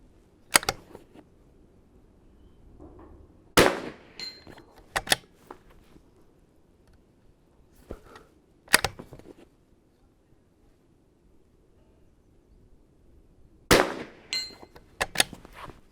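Sharp rimfire rifle shots from a CZ 455 on an Atlas bipod at a 100-yard range, six or so cracks spaced irregularly, with a quick pair near the end and quiet gaps between.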